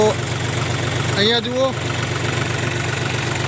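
A steady irrigation water pump engine drones and thrums nearby without pause beside a castor field while someone speaks briefly over it.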